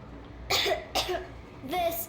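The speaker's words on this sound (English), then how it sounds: "I have this cough." A young girl coughs in the video game Metro Exodus, three close, loud, raspy coughs in quick succession.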